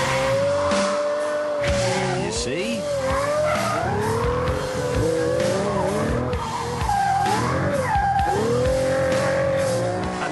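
A Pagani Zonda F Roadster brakes and corners on a track, with a high engine note rising and falling and tyres squealing through the bend, loud and close, under a man's brief remark.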